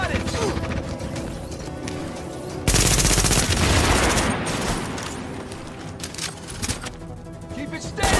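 Turret gunfire in the video game The Division, a sustained loud burst of rapid automatic shots amid mechanical clatter, with a voice talking before and after.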